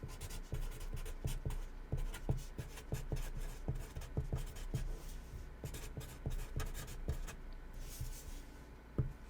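Pen writing on an index card, close and quiet, giving a series of scratchy strokes and taps in irregular bursts with short pauses between words.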